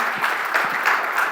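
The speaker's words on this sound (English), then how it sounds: "Let's give a big round of applause to Gurdeep." Audience applause following a conference session, steady clapping throughout, fairly close and moderately loud.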